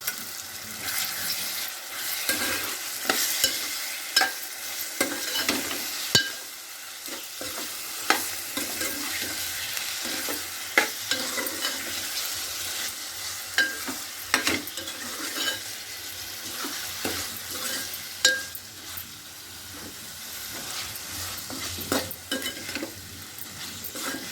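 Chicken coated in ginger-garlic paste fries in a pan for a Telugu-style chicken curry, a steady close sizzle broken by repeated scraping stirs and occasional clinks of a spoon against the pot, with no talking.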